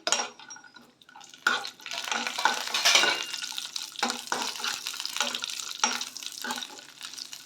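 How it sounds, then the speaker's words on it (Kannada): Raisins and cashews frying in a pan for carrot halwa, heard as soft sizzling with repeated scraping and stirring strokes and light clinks of a utensil against the pot, close and uneven. "ದ್ರಾಕ್ಷಿ ಇಷ್ಟು ಫ್ರೈ ಆದ ತಕ್ಷಣ ನಾನು ಗೋಡಂಬಿನ ಸೇರಿಸ್ಕೊತಾ ಇದ್ದೀನಿ"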